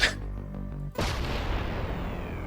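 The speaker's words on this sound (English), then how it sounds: "Here's an explosion. Let me listen to the explosion." Explosion sound effect being auditioned for a mini shoot-'em-up video game: a short low rumble, then a sudden loud boom at about one second that holds as a dense, roaring blast to the end.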